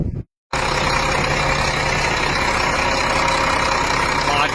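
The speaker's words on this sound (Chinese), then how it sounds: "现在咱们来大伙听一下这发动机声音咋样哈。" A wheel loader's diesel engine idles steadily and loudly up close after a brief dropout at the start, making a continuous even rumble with a whine on top and no speech over it.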